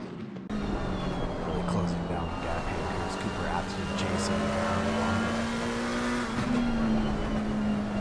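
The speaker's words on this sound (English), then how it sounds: "His battle to contend with Cooper Atherton, sending it through the second carousel, trying to hold on to a position that really doesn't need to be won." Race cars scream through the second carousel at the Nurburgring, a loud sustained engine drone rising and falling in pitch as the cars race, with a voice talking over the noise.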